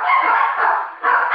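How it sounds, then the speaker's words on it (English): Dogs bark near a church service, a couple of loud, sustained barking bursts close together with a short pause between them. "Got a lot of dogs."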